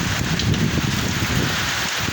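Heavy typhoon rain from Typhoon Karding pounds down steadily in San Fernando, Pampanga, a loud, dense roar of drops hitting surfaces with no break throughout.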